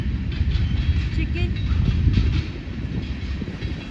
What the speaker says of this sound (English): we'll do a little train watching right now